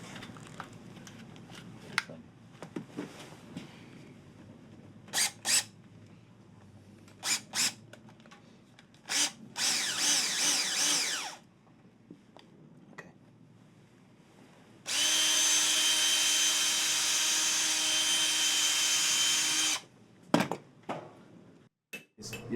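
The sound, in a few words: drill with a bit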